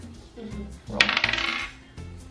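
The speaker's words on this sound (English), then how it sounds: "Roll the dice." Dice are rolled onto a surface during a homeschool counting game, giving a brief, bright rattle of clicks and bounces that settles after about a second, close by and with no talking.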